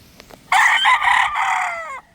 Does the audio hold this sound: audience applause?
no